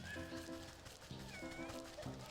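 A cat meows in the video game Wytchwood, a few short mewing calls over steady game music, moderately loud and without talk.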